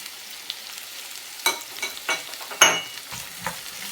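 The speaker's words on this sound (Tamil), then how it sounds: "அதோட உள்ளியும் சேர்த்து போட்டு வதக்க போகிறேன்." Garlic and onions sauté in a pan, with a quiet sizzle under scattered clinks and scrapes of a spoon stirring, several sharper knocks standing out.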